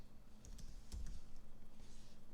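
Keys clatter on a computer keyboard during an online lesson, a quick irregular burst of soft clicks close by, with a faint low hum underneath and no voices.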